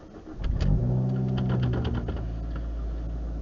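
A car engine starts as recorded by a cheap $10 Pilot dash cam: a brief cranking catch, a rev, then a steady, heavily distorted low idle hum that continues to the end.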